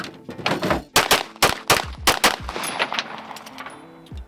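Handgun shots fired at 15 yards after drawing from a StopBox Pro, a quick string of loud, close cracks with ringing decay, fired in fast succession and then trailing off, with no speech.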